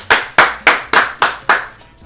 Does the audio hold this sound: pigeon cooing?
no